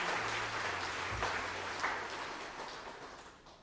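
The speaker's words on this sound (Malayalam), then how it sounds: "വളരെയധികം സന്തോഷത്തോടെ കൈയടിച്ചുകൊണ്ട് ബ്രദർ തോമസ് കൊണ്ട് സ്വാഗതം ചെയ്യുന്നു" An indoor audience at a medical retreat in Kuwait claps to welcome Brother Thomas: a sustained, even patter of many hands that slowly fades, with no voices over it.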